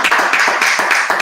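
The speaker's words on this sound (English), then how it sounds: "Clap it up." Congregation clapping at the close of a Sabbath service, a loud, close burst of hand claps in uneven pulses with no talk over it.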